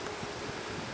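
Honeybees buzz inside a hive frame with few bees present, a steady, soft, diffuse hum running throughout with no talking.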